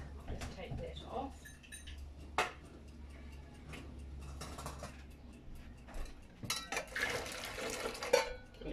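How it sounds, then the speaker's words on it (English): A wire whisk mixes dry ingredients in a bowl for moist apple gingerbread, giving light metallic tapping and scraping against the bowl that is close but soft, with some clinks while a person talks. "I'm just going to mix that all together with the wire whisk"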